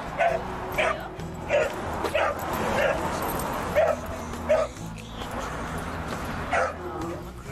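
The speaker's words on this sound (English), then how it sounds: "And all the barking, he's not happy he can't play." A dog in a training session gives repeated sharp yips and barks, roughly evenly spaced, mixed with whimpers, while people talk quietly underneath.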